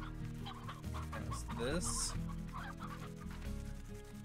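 Hens clucking in the video game Slime Rancher, several close, repeated clucks over a steady game backdrop while a person speaks briefly.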